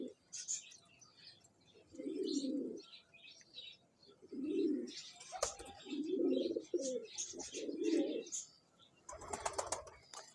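Pigeons for sale coo in low repeated throaty bursts, fairly close but quiet, with chirps, light wing flaps and a brief sharp knock between calls.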